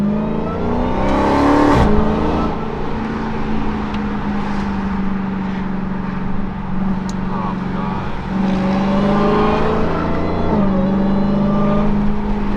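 Supercharged Dodge Hellcat car accelerating in light traffic, a loud steady engine drone rising in pitch with a brief surge near the start and renewed pull toward the end, heard from inside the car.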